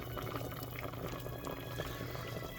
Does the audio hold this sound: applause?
no